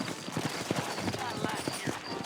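Steady clip-clop of horse hooves in Red Dead Redemption, a brisk continuous gait up close with a faint snort, running under a voice.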